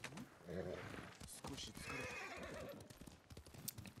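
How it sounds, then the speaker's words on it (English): A horse in the video game Ghost of Tsushima gives faint clip-clopping hooves and a brief whinny, quiet and in the background. "Come here, horsey."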